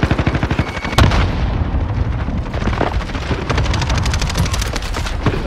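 Video game firefight with rapid gunfire bursts and a frag grenade blast, dense crackling shots throughout with a sharp loud burst near the start.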